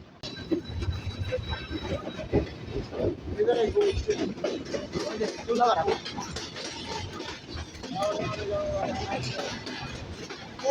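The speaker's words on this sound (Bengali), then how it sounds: "ট্রেন অনেক স্লো হয়ে গেছে" A passenger train rolls slowly along, giving a low rumble with rattling wagons and occasional faint wheel squeals, while people on board chatter in the background.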